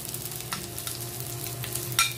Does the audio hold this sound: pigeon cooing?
no